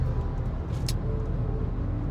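Steady low road rumble and engine drone from inside a moving car, with a brief higher whoosh passing partway through.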